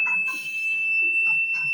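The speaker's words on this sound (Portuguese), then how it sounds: "Quando ele chega nos 5 minutos aqui, esse é o som da morte." Low-air warning alarm on a self-contained breathing apparatus, sounding as the cylinder reaches five minutes of air left: a steady high-pitched electronic tone with short bell-like ringing bursts, near and fairly loud, no speech.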